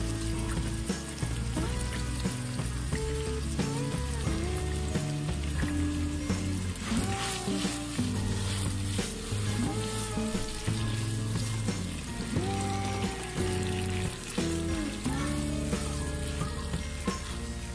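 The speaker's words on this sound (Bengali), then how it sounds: "চিকেনটাকে আমি প্রথমে ভালোভাবে ভেজে নিচ্ছি।" Chicken fries in a pan for Thai egg noodles with a steady, soft sizzle that runs throughout, largely buried beneath loud melodic background music.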